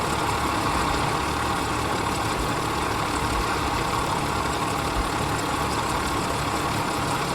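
Engines of a Dornier Do J Wal flying boat idling in Microsoft Flight Simulator, a steady, droning hum that holds constant throughout with no talking.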